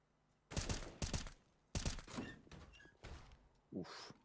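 Rifle fire from an AK and an A1S in a Counter-Strike match on the Nuke map, heard as several sharp, loud bursts of shots in uneven clusters with short gaps between them, close and alone.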